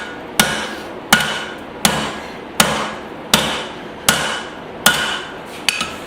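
Hammer blows ring on an anvil while a hatchet is forged and shaped, eight sharp metallic strikes at a steady rhythm about every 0.7 seconds, each with a short ringing decay.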